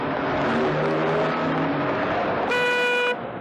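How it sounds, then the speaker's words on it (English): Steady road traffic rumbles close by, then a car horn sounds once, a loud, sustained honk lasting about half a second near the end. "all around us is that deadly daily danger, traffic."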